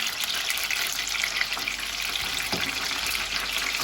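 Chicken spring rolls frying in oil give a steady, dense crackling sizzle, close and continuous, with faint clinks of turning the rolls over.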